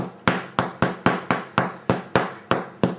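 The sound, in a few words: tapping the bottom of baked roasted chestnut bread, hollow sound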